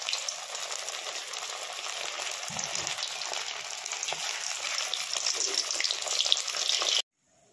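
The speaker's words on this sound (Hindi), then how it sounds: "ये बॉईल आलू है ना, मैं उनको फ्राई कर लूँगी।" Boiled potatoes frying in a hot pan, a loud continuous sizzle up close with a brief low bump, cutting off abruptly at the end.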